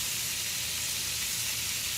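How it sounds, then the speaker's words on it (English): Half a pound of shrimp hitting a hot pan for shrimp scampi gives a steady, bright sizzle and hiss that holds evenly for two seconds with no one talking. "This is about a 1/2 pound of shrimp I'm putting in here."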